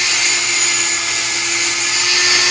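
Power tool cutting a metal pipe to shape the wings of a homemade pole spear slip tip, a steady high-pitched whining grind held close and loud without pause.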